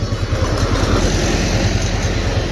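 A tractor drives past through the Khadimabad vegetable market in Dadyal, Azad Kashmir, its steady engine rumble loud and close, running continuously with a low pulsing throb.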